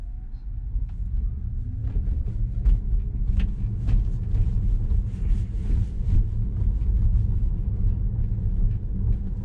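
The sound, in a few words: Tesla car driving on FSD Beta 10.3.1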